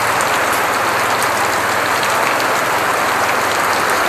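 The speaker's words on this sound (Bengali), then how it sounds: "আর এই দেখো ধামাকা বৃষ্টি, ধামাকা।" Heavy rain pouring down outdoors during a Durga Puja festival evening, a loud, dense, continuous hiss of drops pattering on surfaces, with no voices.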